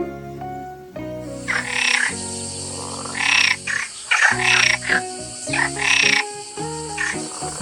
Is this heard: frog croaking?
yes